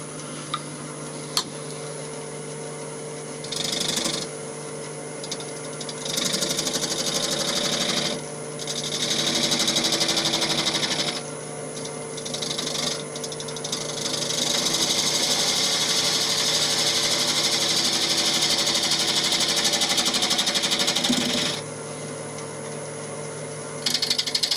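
A wood lathe spins a wet bowl blank, a sustained mechanical whir and hum that rises and falls as the speed changes and a spindle gouge cuts in rough, scraping bursts.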